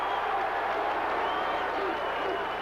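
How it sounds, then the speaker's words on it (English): Steady crowd applause fills a college basketball arena during a Syracuse versus Navy tournament game, a dense continuous wash of clapping with a commentator's voice over it. "and Robinson applauds that"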